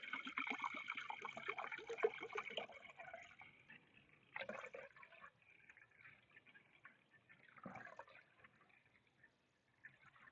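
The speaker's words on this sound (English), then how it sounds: "Pour my water in here for my coffee." Water pours into the pot of an MSR Windburner camping stove for coffee in cold outdoor weather, a close trickling fill with splashes and drips that tapers off toward the end, with no talking.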